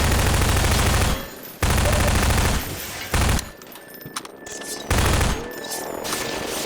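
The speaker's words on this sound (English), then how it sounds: "I always found the Half-Life 2 pistol quite satisfying. It really does hurt to listen to" Loud, harsh pistol gunshots from Half-Life 2, fired in a few separate bursts of rapid shots with short quiet gaps between them, sharp and close.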